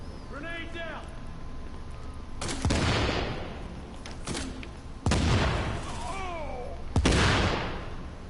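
Three heavy booms from grenade blasts in Tom Clancy's The Division, each a sharp loud burst that rolls off into rumble, spaced a couple of seconds apart over game chatter and electronic chirps.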